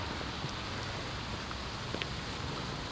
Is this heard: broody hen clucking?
no